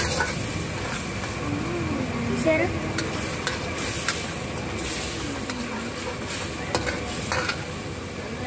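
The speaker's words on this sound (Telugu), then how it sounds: "ఇప్పుడు మనము చికెన్ ని వేసుకుందాం." Chicken pieces fry in a pan for chicken manchurian, a steady busy sizzle with repeated scraping and clinking as they are stirred, fairly close and continuous.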